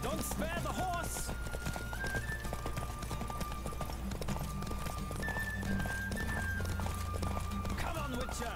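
A horse gallops in a race in The Witcher 3, steady clip-clop hoofbeats running throughout alongside game music, with a voice speaking over the ride.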